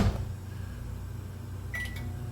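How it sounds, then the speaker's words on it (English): A microwave oven cooking corn still in the husk gives a steady low running hum, then a few quick electronic beeps near the end, close and clear with no talking. "And it'll go in the microwave for about 5 minutes, 4 to 5 minutes depending on your microwave power."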